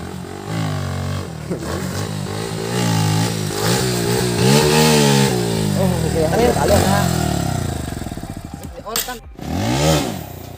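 A motorcycle being ridden for stunts and wheelies fires up and revs hard up close, its engine note climbing and falling in repeated loud surges before easing off near the end.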